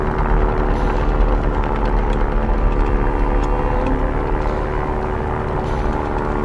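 A plane in the video game Stranded Deep gives a loud, steady propeller and engine drone as it launches, a low, continuous rumble throughout with no talk.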